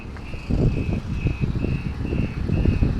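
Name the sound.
vehicles reversing with reversing beeps on highway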